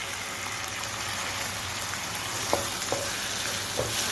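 Chopped tomatoes tipped into a frying pan of softened onions, a steady close sizzle and crackle of frying with a few soft clinks and taps of a utensil against the pan.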